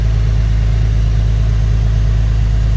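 A steady, fast idle from an old Porsche engine, with a continuous low hum and pulsing that holds even and loud throughout, with no talk over it.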